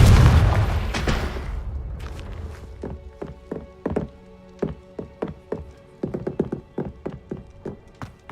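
A Confringo spell blast in Hogwarts Legacy opens with a heavy boom that decays over two seconds, then gives way to a steady run of rhythmic thudding footsteps.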